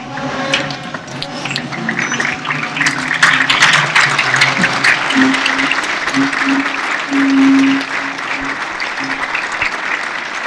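A standing audience at a Model UN opening ceremony in Tanzania applauds a guest of honor, loud sustained clapping with a sung or hummed tone rising briefly through the middle.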